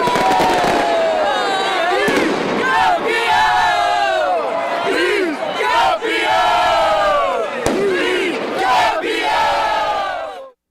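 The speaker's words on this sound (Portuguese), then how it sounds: "Que o diga a multidão que tomou a Praça 7 no centro de Belo Horizonte depois que o jogo terminou." Huge crowd of football fans celebrating in Praça 7, central Belo Horizonte, after a match: loud chanting and roaring voices with firework bangs and crackles cutting through, continuous and near.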